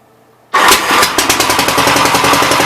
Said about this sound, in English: Just want to see if this thing will crank back up.